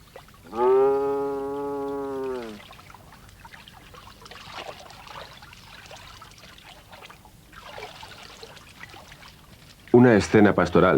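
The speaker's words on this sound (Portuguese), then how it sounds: "esse homem golpeia a água com um pau" A man strikes river water with a stick to scare off crocodiles, producing a short burst of loud, choppy splashes near the end after a long stretch of quiet, murmuring water.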